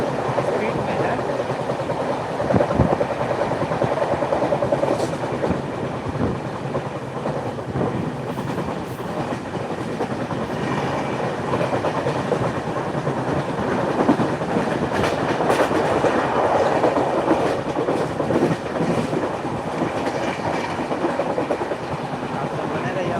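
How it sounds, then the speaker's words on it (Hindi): Indian Railways express passenger train running at speed, a steady loud rumble of wheels and carriage noise with faint rhythmic clatter running throughout, heard from on board. "देख सकते हैं ट्रेन का जो रफ्तार है"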